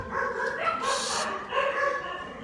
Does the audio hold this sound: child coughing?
no